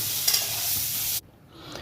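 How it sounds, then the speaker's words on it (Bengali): Potatoes frying with turmeric in hot oil in a wok, a steady close hiss with stirring scrapes, then an abrupt drop to a quieter sizzle near the end. "তেলের মধ্যে আলুটাকে ভেজে নিচ্ছি একটু হলুদ দিয়ে।"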